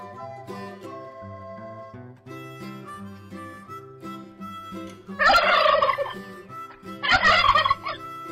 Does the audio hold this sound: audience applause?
no